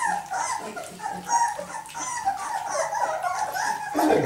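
Three-week-old Berger Blanc puppies yipping, whimpering and barking in a rapid, continuous high-pitched chorus, close by and fairly loud.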